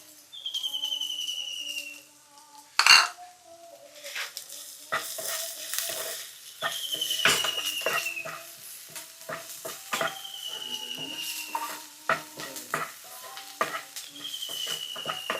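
Finely chopped onions and ginger sautéing in a pan for tomato rice, a soft sizzle broken by repeated spoon scrapes and stirring clatter, with one sharp metallic knock early on.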